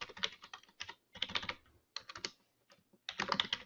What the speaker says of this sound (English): you can just start typing plain text in here